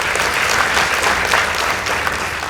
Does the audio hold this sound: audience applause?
yes